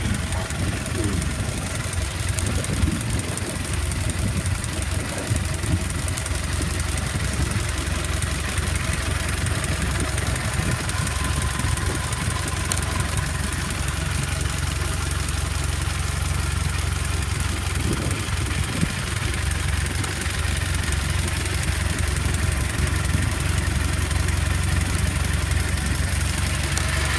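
A 1914 vehicle's engine idles outdoors at a car event, a steady low rumble under broad background noise that continues without a break.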